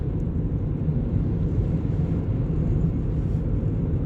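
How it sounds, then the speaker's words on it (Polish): A single-wing monoplane passes overhead outdoors in Croatia, its steady engine drone broad and continuous, with some wind rumble and no talk. "No ładny jednopłatowiec."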